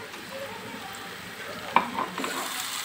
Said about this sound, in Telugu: ఇది పచ్చివాసన పోయే వరకు ఇలా ఫ్రై చేసుకోవాలి